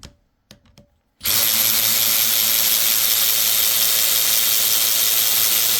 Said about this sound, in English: I should have brought my battery-powered ratchet over here